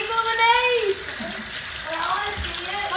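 Running water from a tap or bath spout during hair washing for a home haircut, a steady close wash with children's voices and chatter over it.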